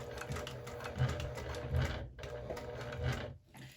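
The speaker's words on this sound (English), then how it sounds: "so then I can turn it around and now continue my stitching going straight." Sewing machine stitching straight along a fabric crossbody bag strap, a continuous close mechanical whir and rapid needle chatter with a brief dip partway through.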